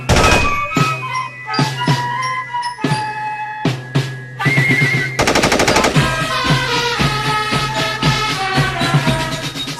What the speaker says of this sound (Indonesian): senapan mesin ringan atau SMR Madsen